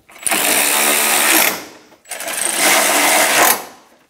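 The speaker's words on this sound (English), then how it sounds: "Snug the bolts down." Power ratchet or impact tool snugging down bolts on a 4.7L V8 engine of a 2000-2006 Toyota Tundra during a timing belt and water pump replacement: two close, rapid buzzing bursts of about 1.5 seconds each, separated by a brief pause.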